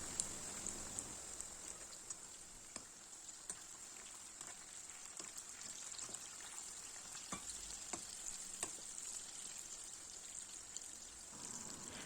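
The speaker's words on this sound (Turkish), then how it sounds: "Yağ çok güzel bir şekilde kızdıktan sonra öncelikle patlıcanları kızartıyorum" Constant crackling sizzle of eggplant frying in hot oil, with occasional sharp pops and stirring scrapes, fairly quiet and steady throughout.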